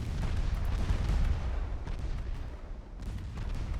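Torpedoes being launched from a warship in a 1905 French naval campaign game set around the Strait of Hormuz, heard as heavy rolling booms and rumbling blasts throughout, loud and continuous.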